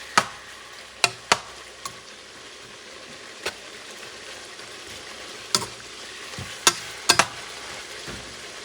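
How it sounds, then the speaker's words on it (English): Spoon or utensil scraping and knocking in a pot while stirring lamb and chicken couscous, a few sharp clinks scattered over a faint sizzle, close and fairly quiet. "Let's mix things around, stir."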